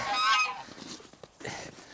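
Geese honking loudly and nearby, a burst of harsh calls that fades into scattered softer honks and rustling.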